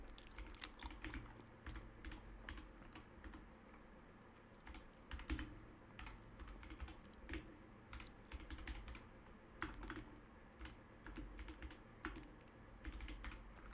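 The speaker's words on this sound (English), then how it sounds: "I'm typing with one hand." One-handed typing on a computer keyboard: a quiet, uneven patter of individual key clicks in short bursts with brief pauses, close and soft under a low background hum.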